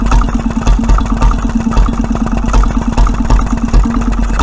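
A 1925 Petter M 1.5 HP vintage stationary engine running on petrol, a steady loud chugging idle with even rhythmic firing pulses over a low drone, close by.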